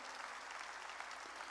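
A church congregation applauds during a sermon, a dense, steady burst of clapping filling the room for a moment without voices on top.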